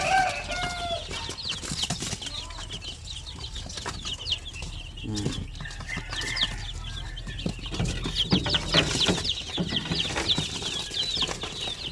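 Native chicken chicks and other fowl in a backyard coop, a steady mix of high chirps, clucks and rooster-like calls with occasional wing flaps, moderately close and continuous throughout.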